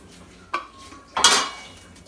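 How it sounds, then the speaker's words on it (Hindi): A serving spoon clanks against a pot as cooked chicken biryani is lifted out onto a platter, two sharp metallic scrapes and clinks about a second apart. "अब हम इसको प्लेटर में निकालते हैं।"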